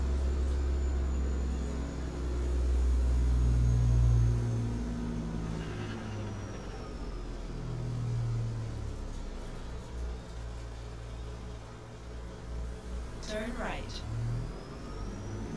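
A heavy truck in American Truck Simulator driving near Eureka, California, its engine a steady low rumbling drone with gentle rises in revs, continuous and close throughout.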